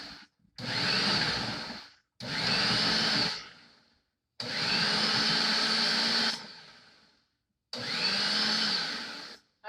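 A food processor pulses cauliflower into rice in four loud bursts of a few seconds each, its whirring motor starting and stopping with short silent gaps between pulses and no talk.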